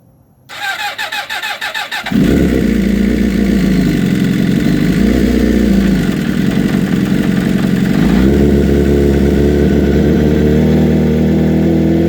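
A 2006-07 Suzuki GSX-R fuel-injected motorcycle cranks with a whirring starter, then catches on a cold start and runs at a loud, steady high idle that dips and rises briefly before settling.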